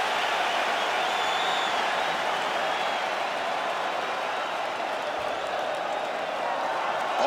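A capacity arena crowd roars and applauds steadily at a featherweight championship fight in EA UFC 5, a constant wash of cheering with no pause.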